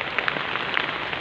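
Heavy rain pours down steadily during a power outage in cold weather, a dense, constant hiss of drops on surfaces filling the scene with no voices.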